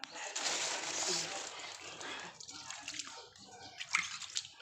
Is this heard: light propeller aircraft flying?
no